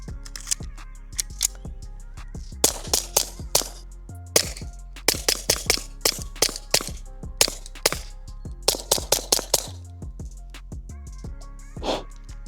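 Suppressed .22 rifle rounds fired through a Replicator ACER rimfire suppressor, heard as a long string of sharp, dry cracks, some spaced out and others in quick bursts, with no talking.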